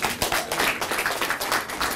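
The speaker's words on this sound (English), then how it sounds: "give yourself a big round of applause once again" An audience at a university PR pitch presentation for Carnival Cruise Lines applauds: a moderately loud, continuous patter of many hands clapping, with uneven bursts throughout.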